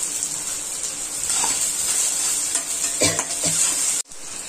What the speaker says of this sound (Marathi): लाल गुलाबी होईपर्यंत भाजायचं. भाजलं की त्याच्यात तेजपत्ता टाकायचं.